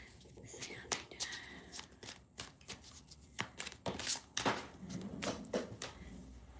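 Tarot cards are shuffled up close during a live psychic reading: soft, irregular riffles and slaps of the deck, with occasional sharper snaps and rustles.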